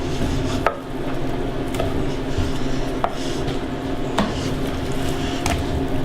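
Lamb being butchered and sliced on a cutting board, with sharp knife taps and thuds landing roughly once a second over a steady background hum.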